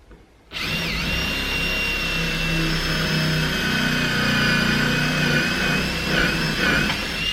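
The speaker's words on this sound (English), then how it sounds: "we're gonna drill a pilot hole here, so it makes it a little easier to thread that screw in" A power drill whirs loudly and steadily for several seconds after a brief quiet start, its pitch wavering slightly as it bores a pilot hole for a screw.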